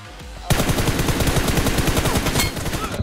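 Rapid automatic gunfire in a shooter video game, a loud sustained burst of closely spaced shots starting abruptly and continuing for a few seconds, close and without voices.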